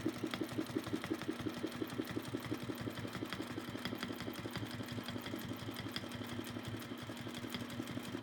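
A sewing machine quilting with an oval ruler against a ruler foot runs steadily at close range, its rapid even needle stitching forming a continuous rhythmic chatter with no voices.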